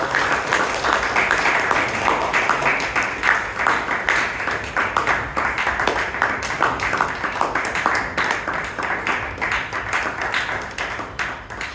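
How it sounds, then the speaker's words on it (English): Sustained applause from a club meeting audience for its president at an anniversary gathering, steady dense clapping filling the room without a break for nearly twelve seconds. "Please give her a big round of applause"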